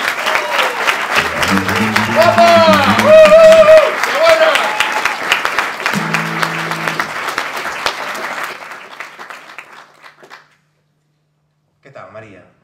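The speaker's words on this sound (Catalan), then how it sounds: "Fort aplaudiment per la Maria" Audience applause greets Maria Aguilera as she comes up onto the stage, steady clapping with a few voices shouting cheers, thinning out and stopping near the end, followed by a brief murmur.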